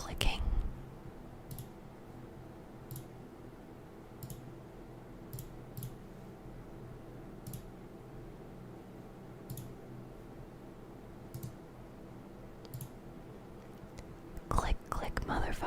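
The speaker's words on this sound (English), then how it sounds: "I love the sound of computer mouse clicking." A computer mouse clicks softly in sparse, irregularly spaced single clicks beneath a close, continuous whisper in a quiet room.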